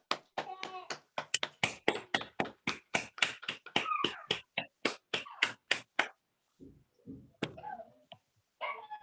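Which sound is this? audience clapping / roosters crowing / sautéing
audience clapping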